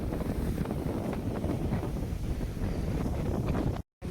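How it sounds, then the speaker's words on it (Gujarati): Strong wind buffets the microphone over a stormy sea with high waves at Mangrol harbour, a loud, continuous roar that cuts out abruptly near the end. "અને જો દરિયો અત્યારે તોફાન આવી ગયું છે અને મોજાઓ ફૂલ ઉછળી રહ્યા છે."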